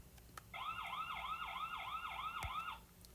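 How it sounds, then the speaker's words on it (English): A MUBVIEW QB320 PTZ security camera's siren alarm wails in a steady rising-and-falling pattern for about two seconds, fairly faint against a quiet room. "You can hear the siren go off"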